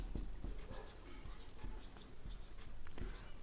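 Steady writing on a board during a class 9 maths lesson, heard close and continuous as rhythmic scratchy strokes, with no voices over it.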